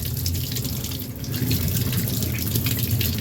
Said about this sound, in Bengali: এখন এটা কাটবো আমরা ধুয়ে নিচ্ছি প্রথমে পরিষ্কার করে নিতে হবে ভালো করে